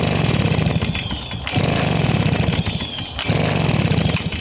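RedMax EBZ 5150 commercial leaf blower engine being pull-started, loud rough two-stroke sputtering that runs briefly, dropping out twice in short gaps before catching again, close and alone.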